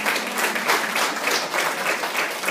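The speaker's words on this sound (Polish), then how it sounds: "również brawa." Audience applause for the gentlemen at a library event indoors, a full, continuous burst of many people clapping at close range, steady and even throughout without a break.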